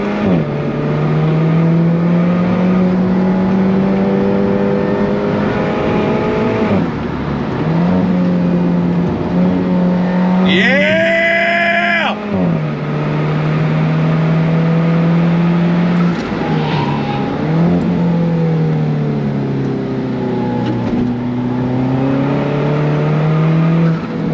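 A 2015 Alfa Romeo 4C Spider sports car accelerates hard from inside, its engine droning and rising in pitch through the gears, with a sharp high-revving surge midway and shift dips between pulls.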